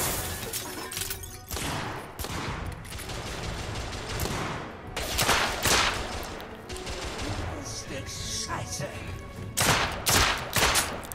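Gunfire in the video game The Order: 1886, a heavy-recoil weapon firing in loud repeated bursts with crashing, shattering debris, dense and close throughout.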